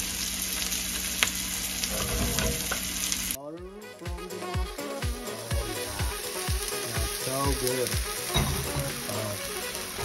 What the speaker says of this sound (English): And we boil everything for reduction.